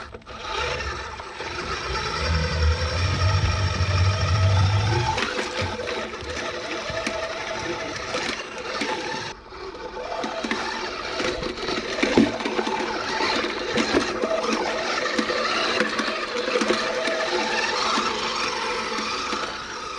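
A Pig Studios Ripsaw RC tracked vehicle drives over obstacles, giving a continuous gritty whirring and scraping of tracks and motor with a brief dip mid-run and throttle surges, close and alone.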